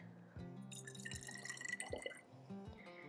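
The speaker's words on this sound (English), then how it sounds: "first we're gonna start by adding a little bit of water" Water trickles and drips into a small DIY potion bottle, a short burst of close, quiet splashing and gurgling as the bottle fills.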